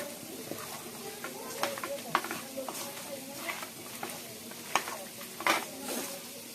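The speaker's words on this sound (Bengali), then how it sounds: "এবারে দেবো কাঁচা সরষের তেল, এটাকে মাখিয়ে নেব।" Chicken is worked together with raw mustard oil in a bowl, giving close, irregular wet squishes and occasional sharp clinks of utensils, the mixing scrapes rising and falling in uneven bursts.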